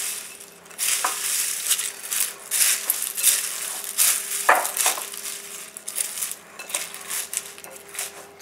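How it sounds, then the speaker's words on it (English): A spoon scrapes and clinks against a metal pot while chocolate cherry protein bar mixture is stirred, irregular close clatter and rubbing strokes with no talk. "you stir it together a little bit neater than I am"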